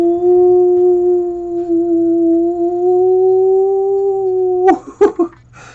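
Weird, howling space station music sustains a loud, steady eerie tone for several seconds, then cuts off into a few short choppy bursts of sound at the end.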